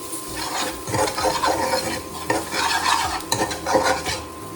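Tapioca pearl khichadi is stirred and tossed in a pan, with rhythmic scraping and clinking strokes of a utensil over a soft sizzle, close and fairly loud, without speech.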